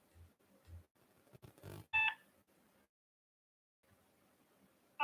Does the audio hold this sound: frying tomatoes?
no